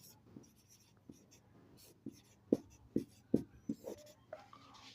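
A pen scratches out an equation by hand in a class 10 maths lesson, a series of short close strokes and taps in a quiet room.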